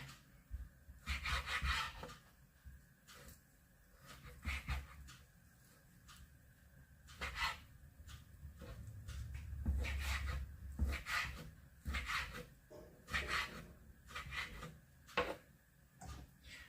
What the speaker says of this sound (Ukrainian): Нарізаємо під черевину чи сало, що у вас є, на дрібненькі шматочки.